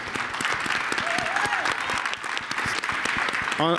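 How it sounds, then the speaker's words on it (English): A crowd applauds at a Global Citizen Now event in New York, dense clapping and a few cheers filling the room, with a voice speaking briefly over it near the end. "Can we get a round of applause?"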